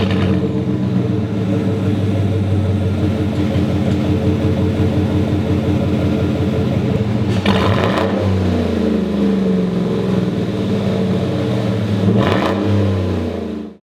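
A truck engine fitted with a Corsa performance exhaust revs loudly and close, with a deep rumbling exhaust that swells in two sharp bursts of throttle.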